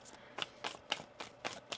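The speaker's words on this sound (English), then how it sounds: "One more shuffle here." Tarot cards being shuffled by hand, a series of six crisp riffling bursts in a steady rhythm, close and fairly quiet with no talking.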